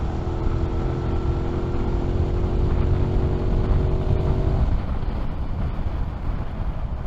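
A 2021 Aprilia RS660 motorcycle cruising in 6th gear at about 70 mph and just under 5,000 rpm, a steady engine drone buried under loud continuous wind rush.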